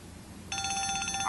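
A telephone rings in a film scene. A quiet stretch comes first, then the bright, steady ringing starts and continues with a rapid pulsing rhythm, close and clear, with no voices.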